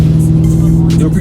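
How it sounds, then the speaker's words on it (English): A large car-hauler truck loaded with six cars rolls past: a loud, close, steady engine drone with a deep rumble, heard only briefly. "It's a big ass truck that's hauling like 6 cars."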